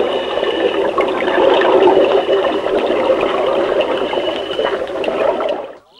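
Loud rushing water floods a sealed cell, a continuous churning gush that holds steady for several seconds before cutting off abruptly.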